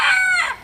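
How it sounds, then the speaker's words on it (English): A rooster crows once outdoors, a short, loud, close crow with no talking over it. "Excuse the stupid roosters."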